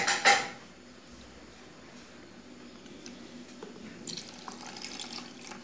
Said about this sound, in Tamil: இதை நாம் தேங்காய் பால் ஊற்றி